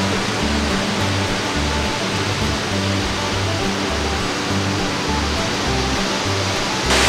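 Riam Panggar waterfall in Bengkayang, Indonesia, pours in a steady, dense roar of falling water, loud and continuous with no voices over it.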